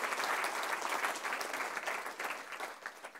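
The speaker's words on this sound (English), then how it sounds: "Maybe one more applause for him." Steady applause from an audience at a business talk, a thick wash of clapping that thins slightly near the end.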